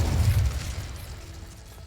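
A fiery Incendio spell from Hogwarts Legacy on PS5 Pro erupts with a deep, loud boom and low rumble that quickly fades over about two seconds.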